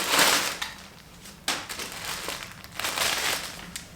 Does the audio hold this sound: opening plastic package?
yes